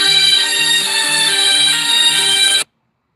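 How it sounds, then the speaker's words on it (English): A phone ringtone for an incoming call plays a bright, repeating electronic melody of short tonal phrases at steady volume for a few seconds before stopping abruptly. "Sorry, I'm getting a phone call."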